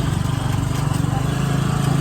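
A motorcycle engine working along a rural provincial road, a loud, close, steady buzzing drone with a rapid throbbing pulse and no let-up.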